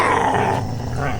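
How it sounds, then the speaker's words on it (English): Two dogs growl in a horror audio drama, a low continuous snarling rumble held close and loud throughout, with faint yips mixed in and no talking over it. "You are the ugliest couple of dogs I have ever seen."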